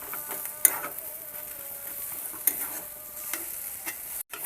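Banana flower mash with garam masala fries softly in a pan while a spatula stirs and scrapes it, with faint sizzling and a few sharp clicks of metal against the pan.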